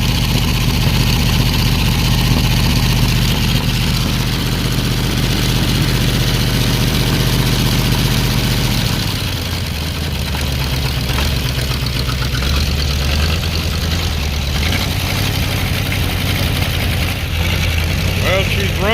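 A warmed-up Ford 351W V8 mated to a C4 transmission runs on a ground-test stand, a loud, close, steady rumbling idle whose pitch drops partway through and then holds.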